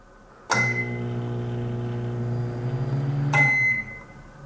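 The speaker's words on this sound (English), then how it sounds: "So here we go, light bulb in a microwave, and this is the fluorescent bulb." A running microwave oven hums steadily for about three seconds with a fluorescent light bulb inside, starting and ending with sharp clicks and a faint crackle partway through.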